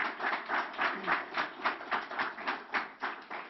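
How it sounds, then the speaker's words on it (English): An audience at a New York governor's announcement about disability policy claps together in a steady, rhythmic patter. The applause sounds faint and distant and continues evenly with no voices. "And you can clap for that, absolutely."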